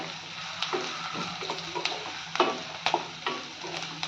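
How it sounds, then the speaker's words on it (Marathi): Chopped onion frying in a pan while a spatula stirs it: a continuous sizzle broken by repeated scraping strokes and clicks at an uneven rhythm, close and moderately loud, with no voices. "कांदा आपल्याला जास्त असा करपून द्यायचा नाही अगदी हलका गुलाबी रंग येईपर्यंत फक्त ट्रान्सपरंट होईपर्यंत भाजून घ्यायचा आहे"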